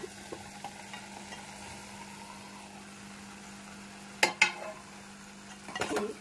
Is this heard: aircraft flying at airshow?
no